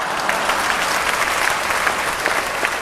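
Audience in an assembly hall applauding, dense sustained clapping from many hands filling the space, close and steady throughout.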